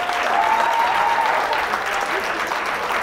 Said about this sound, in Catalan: li fem un aplaudiment a la Carolina